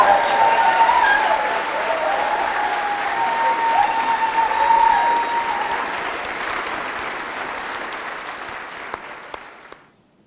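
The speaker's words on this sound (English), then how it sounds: "join us all in one big round of applause for Justin Dodge, Clarissa Harris, Sandra Sm" A crowd applauds Special Olympics athletes being recognized, loud continuous clapping with some cheering and whistles at first, then gradually thinning out and fading to silence near the end.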